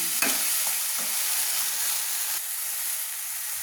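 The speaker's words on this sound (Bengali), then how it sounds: "আবার ভালো করে মশলাটা নাড়ছি। মশলাটা ভাজা না হওয়া পর্যন্ত আমি নাড়তে থাকবো।" Spices with turmeric fry in a pan as they are stirred, producing a steady close sizzle with a few soft scraping strokes of the spoon.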